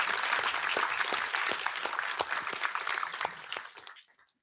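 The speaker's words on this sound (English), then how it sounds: "give them a round of applause." Audience applause at a live corporate event on prediction markets, a dense sustained clapping from a crowd that stays loud for about three seconds and then fades out to near silence.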